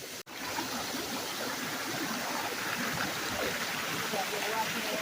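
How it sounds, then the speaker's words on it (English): A river stream and waterfall rush steadily and broadly, a constant hiss of flowing water at moderate distance after a brief dropout at the start. "See waterfall, guys."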